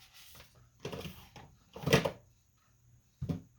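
A drawer being opened and closed, several short, quiet wooden knocks and slides spaced out over a few seconds, close by in a quiet room.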